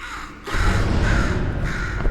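A crow in the Portal 2 video game caws steadily for about two seconds, loud and close, with no speech.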